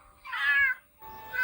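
A cat meows twice in close succession, the first call long and drawn out, the second starting after a short pause, both fairly quiet and alone with no talking.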